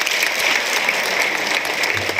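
Loud, close applause from an audience at an award ceremony honouring students, a dense continuous patter of clapping with a brief low murmur near the end.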